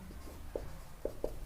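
Soft scratches of a pen writing a chemical equation for sodium chloride, three brief faint strokes against a quiet room background.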